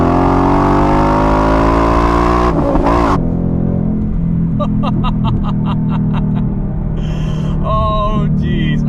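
A 2021 Ford Mustang GT base (S550) V8 revs hard and loud up close, with a sharp blip near the start, then settles into a deep idle broken by a run of quick throttle stabs and crackles.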